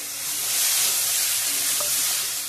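Potatoes and cauliflower frying with onion as green peas go in, a steady close sizzle with broad hissy texture throughout and no talk.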